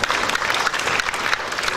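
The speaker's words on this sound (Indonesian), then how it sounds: "Mau tepuk tangan buat Tuhan?" Audience at a health talk session breaks into loud, dense applause, a continuous wash of clapping with no pause.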